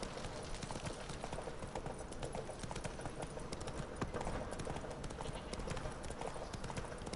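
Roach, the horse in The Witcher 3, trots with steady, rhythmic hoof clip-clops on hard ground, continuous and fairly close throughout.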